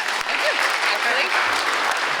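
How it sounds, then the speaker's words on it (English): Applause from a crowd at a county Democrats fall fundraiser, a dense, steady clatter of clapping through a short stretch, with some voices mixed in. "Just to interrupt the applause for a second"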